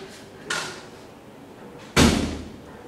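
Classroom door slammed shut, a soft bump followed by one loud sharp bang with a short decay, close by.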